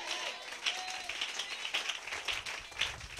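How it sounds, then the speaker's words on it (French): A church congregation claps and applauds for a few seconds, a dense crowd patter of hands with scattered louder claps and a faint voice underneath. "Donnez-lui une main d'acclamation."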